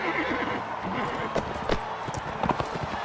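A horse neighs loudly in a jousting tournament in Mount & Blade: Warband, its whinny mixed with pounding galloping hooves and clashing game noise, while someone talks over the action.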